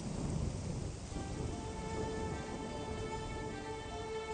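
Steady rain falls with a low rumble of thunder early on, faint and distant-sounding throughout.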